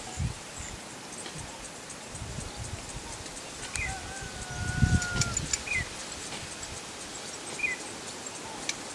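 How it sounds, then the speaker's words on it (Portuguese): Small birds sing in open countryside of the Serra das Matas hills in Monsenhor Tabosa after the rains, giving quiet, scattered chirps and short whistled phrases over a steady hum of insects and rustling, with a brief louder rustle midway. "Tem muito mais passarinho esse ano"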